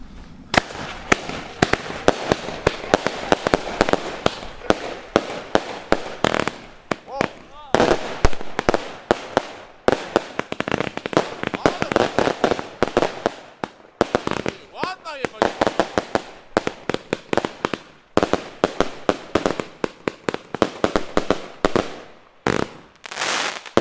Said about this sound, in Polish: Jeszcze tak blisko nigdy nie stałem przy fajerwerkach, jeśli chodzi o nagrywanie.